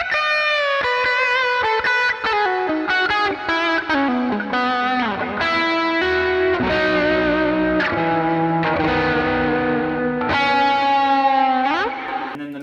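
Music Man electric guitar playing a solo through heavy effects, distorted and chorused with reverb and echo, a continuous run of sustained and bent notes at steady, full loudness with no talk.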